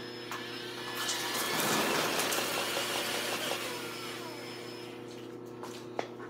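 A spin art machine whirs with a steady motorized hum as a painting with metallic gold paint spins, swelling briefly and then settling, with a faint click near the end.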